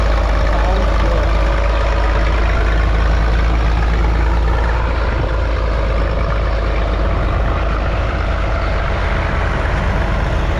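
Old tractors' engines idle on a plow day, a continuous loud low rumble with steady mechanical clatter and broadband noise that holds unchanged throughout.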